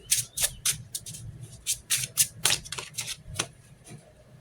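Tarot cards being shuffled by hand during a reading, a run of crisp riffling and flicking bursts in an uneven rhythm over about four seconds, close and fairly quiet, with no talk over it.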